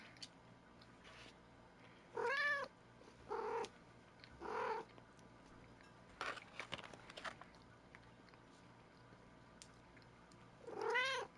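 A cat gives several short meows and cries at intervals, close and fairly faint over a quiet room hum, with a brief scratchy rustle in between.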